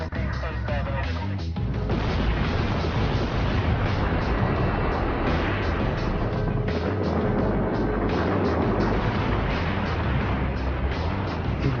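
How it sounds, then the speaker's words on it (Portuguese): Dynamite charges blast at both ends of a canal during construction of the Itaipu dam on the Paraná River, a sustained loud rumbling roar of debris and rushing force lasting many seconds. "A explosão lembrou fogos de artifício."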